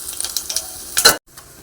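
Mustard seeds crackle and pop in hot oil with a rapid, sharp spatter, building to a louder burst before cutting off abruptly.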